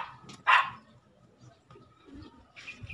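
A dog gives one loud, sharp bark near the start, close by, with faint street sounds and quieter movement following.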